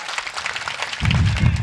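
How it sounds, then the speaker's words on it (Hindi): A live Hindi poetry gathering's audience claps in a short burst, a dense patter of hands that grows fuller and louder partway through. "एक बार ताली बजाकर मुझे अनुमति दीजिए।"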